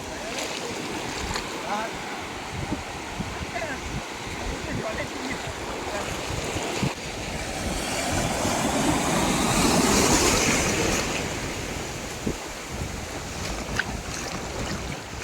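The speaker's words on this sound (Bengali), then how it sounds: "এই যে কোমর অবধি গভীর সমুদ্র, দেখতেই পাচ্ছ কত ঢেউ সমুদ্রের মধ্যে" Sea waves roll in at Bakkhali beach, a broad rushing surf that swells and recedes under gusty wind noise, with no clear talk.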